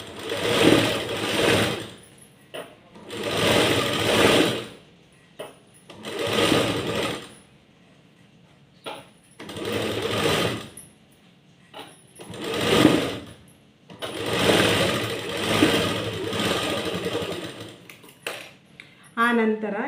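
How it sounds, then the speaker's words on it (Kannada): Sewing machine stitching fabric in short bursts of steady whirring, each lasting a second or two, separated by quiet pauses, close and fairly loud, with someone talking in between. "ಇದ್ರ ಮೇಲೆ ನಾನು ನಿಮಗೆ ಇನ್ನೊಂದು ಸ್ಟಿಚ್ ಹಾಕಬೇಕು."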